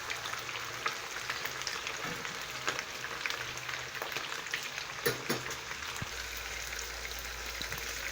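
Chicken pieces fry in oil with a steady, close crackling sizzle, dense and continuous throughout, with a few louder pops and spatters and no talking.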